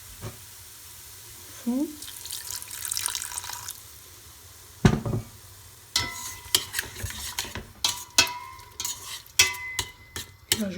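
Water poured into a sizzling chorba base in a pot, a brief hissing rush, then steady sizzling with repeated clinks and scrapes of a spoon stirring; a voice speaks briefly.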